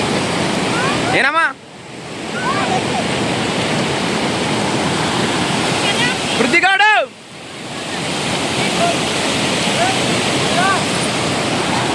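Water rushes forcefully over a village lake weir at Singotam, a loud, steady roar of churning flow close by, broken twice by brief dips.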